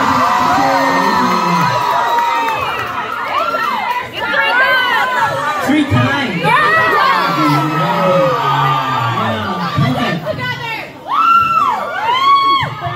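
A concert crowd at a K-pop show in a Toronto music hall screams, cheers and whoops loudly and continuously, with high shrieks and shouted voices rising throughout.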